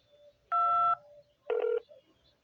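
Two separate telephone keypad DTMF tones, each lasting under half a second, clear and fairly loud on a quiet phone line while a voicemail greeting plays.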